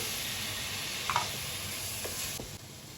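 Tomatoes sauté in masala for Kerala-style mutton curry, a soft steady sizzle with a few faint clinks of stirring, close but fairly quiet and free of speech.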